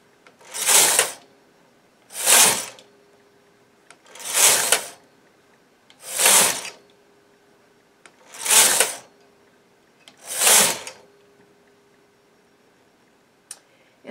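A knitting machine carriage slides across the needle bed while shaping a heel for a tiny Christmas stocking, six evenly spaced raspy swishes about two seconds apart with quiet gaps between.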